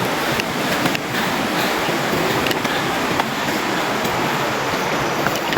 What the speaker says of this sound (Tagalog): Sarap ng tunog ng tubig.